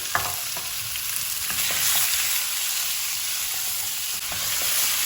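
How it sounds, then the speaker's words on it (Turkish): Chopped chicken breast sizzling steadily in a hot frying pan, a constant crackling hiss with occasional clinks of stirring, no voices. "Arkasından doğradığımız tavuk göğsümüzü içerisine atıyoruz. Ve sesler geliyor."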